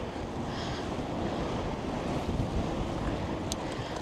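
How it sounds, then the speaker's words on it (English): Wind gusting across choppy water below a bridge, a steady broadband rush of waves and wind buffeting the microphone, close and loud with no talk. "The water is not calm. The wind is blowing."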